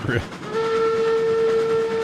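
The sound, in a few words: train whistle in the video game Railroads Online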